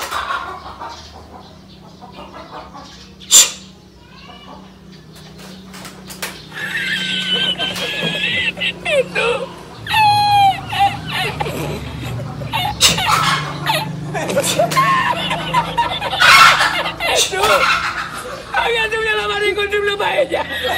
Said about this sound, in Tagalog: may gustong sumali na manok na pula